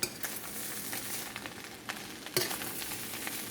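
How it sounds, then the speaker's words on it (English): Ackee and saltfish stir-frying in a pan for a Jamaican one-pot meal, a constant close sizzle broken by scraping stirs and a few sharp utensil knocks against the pan. "you're just going to stir fry this for a little bit, guys"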